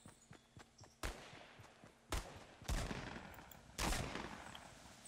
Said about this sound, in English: They're having a firefight.